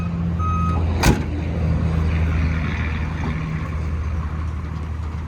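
Truck backing up with a car on board for delivery, its reverse alarm beeping steadily at a near, even pace over a low idling diesel engine.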